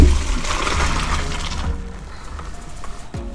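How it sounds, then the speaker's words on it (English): Cooked noodles are drained into a colander, a loud rush of pouring water splashing through for under two seconds, then fading to a quieter trickle and drips. "After your noodles have fully cooked, it is time to drain them in the colander"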